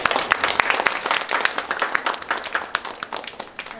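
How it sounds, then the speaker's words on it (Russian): A studio audience gives lively applause, dense and fairly close, with the individual claps becoming more distinct as it thins out toward the end. "Аплодисменты в студию!"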